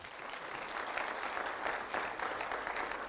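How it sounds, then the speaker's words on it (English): Audience applause at a Pan African youth convention at a Kenya school, a steady wash of many hands clapping throughout, moderately distant and fairly even with slight swells. "I think a better round of applause."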